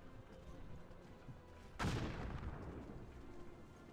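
A single massed musket volley in the Cossacks 2 Napoleonic Wars game goes off as one loud, sharp crack over a quiet battlefield murmur, then rolls into a rumbling tail that fades over a couple of seconds.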